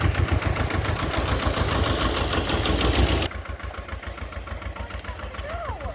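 A backhoe's diesel engine runs nearby with a steady, rhythmic knocking chug. The level drops suddenly partway through, then the engine carries on idling more quietly.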